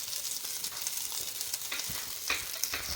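Fish pie ingredients frying in a pan, a steady bright sizzle with soft stirring scrapes and a few small pops, close and fairly quiet.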